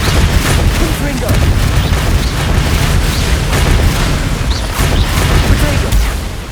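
Confringo fire-spell blasts from the Hogwarts Legacy video game pound out in a dense, continuous barrage of loud booming bursts, heavy low rumble throughout with no pause.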